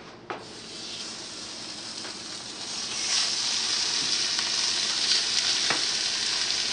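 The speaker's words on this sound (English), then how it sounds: "I'm going to put them in a hot skillet here and get them browning" Lamb patties sizzling and browning in a hot ungreased skillet, releasing their own fat; a steady bright frying hiss that grows slightly louder, with a few scraping taps of a utensil.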